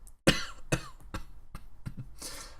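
A series of about five harsh coughs, close and fairly loud, irregularly spaced and ending in a breathy rasp.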